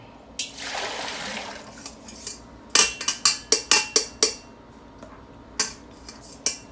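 A jug is rinsed out under running water while making homemade butter: a short gush of splashing water, then a quick series of sharp clinks and knocks against the container, with a couple of stray taps later.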